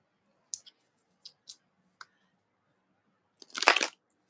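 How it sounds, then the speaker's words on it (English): Playing cards shuffled by hand: a few sparse, close clicks, then one quick dense riffle burst near the end, with no talking. "I have nothing better to do than to shuffle cards off camera"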